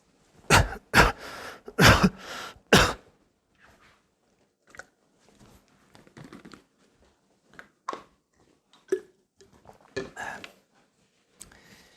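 Several loud, harsh coughs in quick succession near the start, followed by quieter scattered bursts that could be softer coughs, throat sounds or talk.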